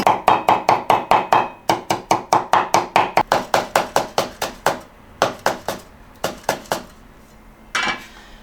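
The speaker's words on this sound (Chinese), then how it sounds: "姜蒜我们给它剁一起哈" Ginger and garlic being minced together with a cleaver on a cutting board, a rapid series of sharp, loud chops in steady rhythm that slows and becomes sparser toward the end, with no talking.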